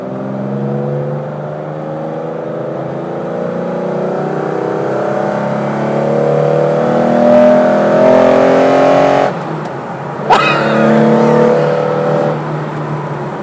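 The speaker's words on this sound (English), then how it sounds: "that flat six in the very back of the car, well, it doesn't feel or sound like there's a bulkhead between us" A Porsche 911 ST's rear-mounted flat-six revving loudly from inside the stripped cabin, a rising, rasping drone that climbs steadily, then breaks off abruptly with a sharp crack before resuming lower.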